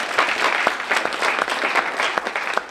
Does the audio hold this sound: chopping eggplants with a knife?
no